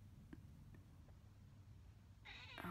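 A house cat meows for attention once, short and fairly close, near the end of a quiet stretch of low room hum.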